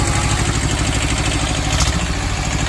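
A Kubota B6000 two-cylinder tractor engine runs steadily at idle with a close, loud, even throbbing chug and a clattery mechanical edge.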